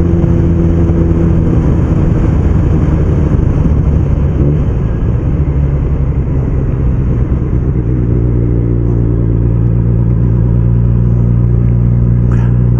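A BMW K1200S motorcycle engine drones steadily in fourth gear at about 2,000 revs after a roundabout, loud and close with constant wind rush, no talk.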